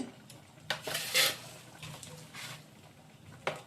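Flat beans and bottle gourd greens drop into a simmering pot of thin, spice-free curry, giving a few soft clattering knocks and light patters against the metal, faint and close, with no talking.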